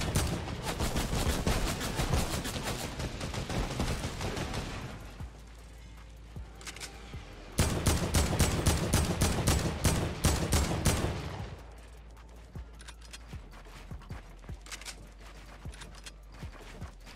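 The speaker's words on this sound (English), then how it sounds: "Here comes the panic rocket spam, dude." Rockets spammed from launchers in a Fortnite battle royale match make a dense, loud barrage of rapid explosive blasts, easing to scattered distant pops, then a second heavy burst before fading to sparse bangs.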